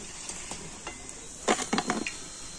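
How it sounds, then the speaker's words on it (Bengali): Colourful puli pitha rice cakes frying in hot oil, with a faint steady sizzle and a short burst of close utensil scrapes and clinks partway through. "আর একইভাবে বাকি পিঠেগুলো আমি ভেজে নেব"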